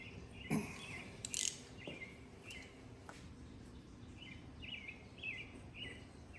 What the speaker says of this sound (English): Put some pressure on it. And tighten that back down.